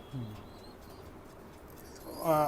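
Imported Teddy pigeons coo in soft, low, rounded notes, faint at first and then louder near the end, with a person talking over them.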